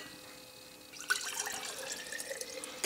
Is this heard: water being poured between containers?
yes